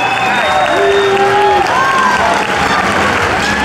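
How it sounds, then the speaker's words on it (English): Loud crowd applause and cheering fill an MMA event arena for two fighters after a bout, steady and dense throughout, with shouts and whistles rising above the clapping. "Let's give them both a big round of applause."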